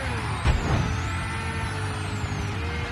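A truck rolling past in Mafia III, a steady low engine rumble with a brief hissing burst near the start and a faint whistling tone drifting above the traffic noise.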